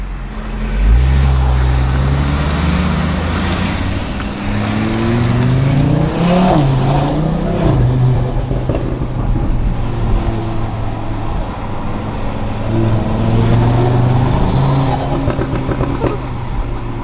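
Audi RS3 fitted with an OPF exhaust system and aftermarket intake, engine droning and rising in pitch under acceleration, loud and close with a rumbling undertone and varying revs throughout.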